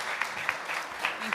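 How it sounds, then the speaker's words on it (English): At a school board meeting, an audience claps for new school leaders in a short, steady burst of applause with a few sharper claps standing out. "And one more round of applause, please."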